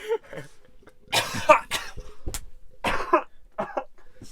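Several sharp coughs in a row, close and loud, spaced with short pauses, with some throat clearing mixed in.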